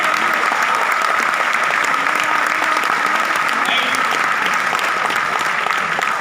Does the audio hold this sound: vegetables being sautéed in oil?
no